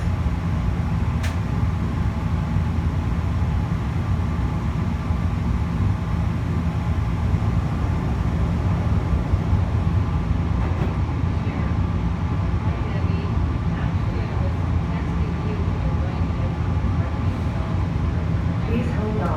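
Sky Train people mover at Phoenix Sky Harbor Airport heading for Terminal 3, a steady low rumble and hum of the moving car, constant and close, with faint rattles.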